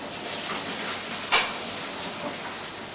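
Boiled potatoes being drained through a colander give a steady rushing hiss of pouring water, with one brief clatter partway through and no one speaking.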